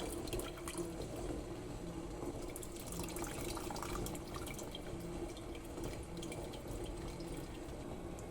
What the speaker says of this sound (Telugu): ఇందులోకి నాకు సరిపడంత చింతపండు గుజ్జు యాడ్ చేస్తున్నాను.